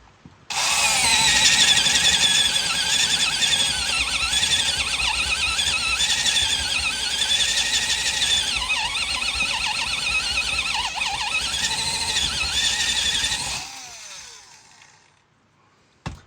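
A Makita 6010D electric drill runs for about thirteen seconds with a loud, steady high whine whose pitch wavers slightly under load. It then spins down and stops, with a small click at the very end.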